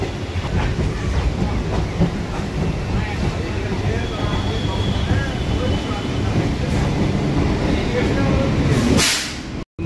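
A Kolkata Circular Railway local train runs from Burrabazar station toward Sovabazar, heard from inside as a loud, steady rumble and rattle of carriages over the rails that cuts off abruptly at the end.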